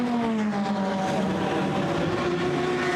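GT race cars of the Blancpain GT Sports Club sweep past the pits at Paul Ricard, a loud continuous engine roar with a slowly falling pitch and several engines overlapping.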